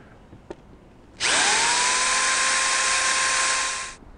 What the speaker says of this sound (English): I'm going to make a little countersink hole on top of these to give a little bed for the screw to sit in